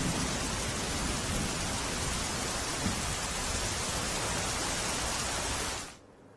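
Rain pours on the SG Highway in Ahmedabad between Vaishno Devi and Gota, a dense steady hiss that holds evenly before cutting off abruptly near the end, with no voices.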